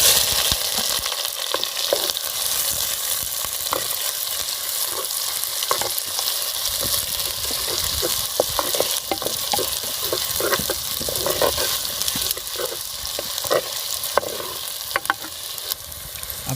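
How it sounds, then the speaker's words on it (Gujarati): Cumin seeds crackle in hot oil, then chopped onion goes in and is stirred, making a continuous loud fry with spatula scrapes and clicks repeating throughout, close and without talk, while cooking a Gujarati cluster bean and dhokli curry. "જીરું સારી રીતે કકડી જાય તે પછી આપણે ડુંગળી નાખી દઈશું"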